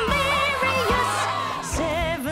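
A cartoon crowd cheers deliriously with whoops and shouts, loud and continuous under a bright musical backing.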